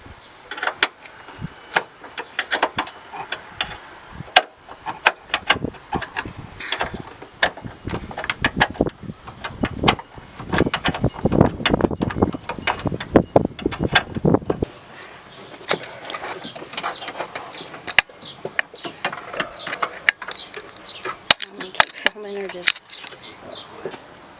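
A ratchet loosening strut bolts on a 2002-07 Buick Rendezvous, rapid clicking bursts and metallic rattles that come and go under intermittent talk, close and moderately loud.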